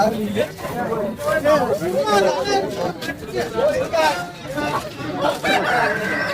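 Several roosters crow repeatedly, overlapping one another amid a busy crowd of chattering voices and bustle at a Monday poultry market in Kunnathur.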